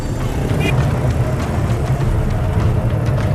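Chaotic city road traffic in a heavily polluted city, a dense steady rumble of engines close by, with faint voices in the mix.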